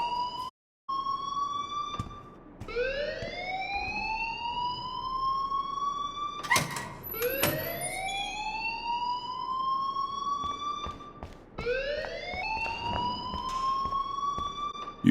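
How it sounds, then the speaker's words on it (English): Fire alarm in Life Is Strange, a loud electronic wail repeatedly sweeping upward in pitch in regular cycles of about two seconds, close and continuous with no talking over it. "please turn off that alarm since that's your job"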